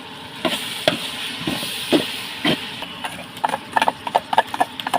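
Onions and spices (pepper, turmeric and chili powder) sautéing in a pan for chicken gravy, with a steady sizzle broken by repeated spoon scrapes and clacks that grow quicker toward the end.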